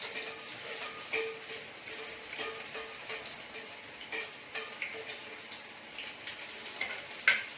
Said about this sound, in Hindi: गैस में सबसे पहले डालूंगी लहसुन